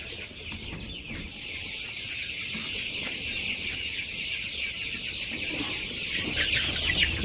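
Chickens cluck steadily in a village yard on a sunny morning, several birds close by with overlapping calls over a continuous outdoor hiss.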